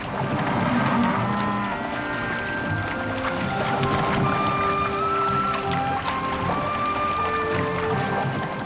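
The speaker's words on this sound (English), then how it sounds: "The 70-kilometer march of the grey cattle to their winter pastures has not been disturbed by wolves." Hungarian grey cattle on the puszta during their long march to winter pastures, lowing in drawn-out moos that overlap and carry across the open plain over a steady outdoor background.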